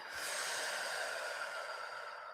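A single long, deep breath close to the microphone, a steady airy rush lasting a couple of seconds with nothing else heard.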